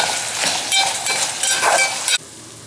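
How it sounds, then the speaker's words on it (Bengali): Chili sauce with a little garlic powder sizzles and is stirred in a pan as the liquid cooks down, a steady close crackle with light clinks of the spoon, cutting off abruptly near the end. "এবার আমরা নেড়ে চেড়ে এই রসটা শুকিয়ে নেব"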